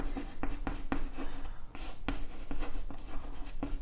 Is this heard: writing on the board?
yes